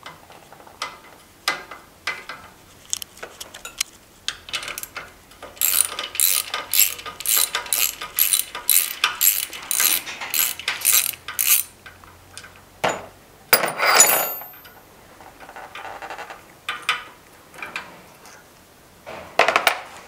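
Hand ratchet clicking in quick repeated bursts while backing out two screws from a seized engine, close and crisp, with pauses between runs of clicks and a few louder clanks of tools.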